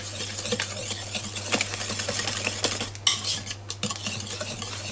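A utensil stirs Spanish almond cake batter with a pinch of salt in a bowl, giving steady, irregular scraping and light clinks against the sides, close and moderately loud with no talking.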